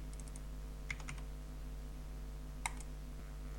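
A value being typed on a computer keyboard: a few quick, faint key clicks in small clusters over a steady low background hum.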